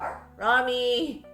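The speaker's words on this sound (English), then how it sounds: "I'm sorry for the barking." An old dog barks a few times nearby, short harmonic barks, with a person calling out over it.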